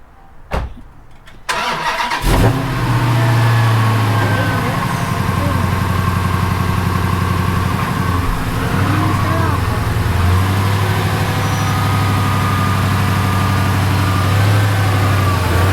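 A car engine turns over and starts, then settles into a loud, steady close idle and rumble as the car pulls out of a garage, with people talking briefly.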